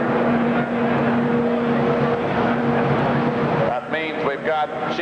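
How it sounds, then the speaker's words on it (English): A modified 2WD pulling tractor's engine roars steadily and loudly at a tractor pull, a sustained heavy drone that dips near the end as an announcer's voice breaks through. "Oh, good strong tractor."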